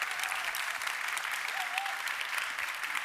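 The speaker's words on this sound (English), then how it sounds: "A huge round of applause, please, for all of our amazing," Audience applause for the finalists at the FameLab International Final 2025, a science communication contest: a steady wash of many hands clapping at moderate volume for about three seconds, with no talking over it.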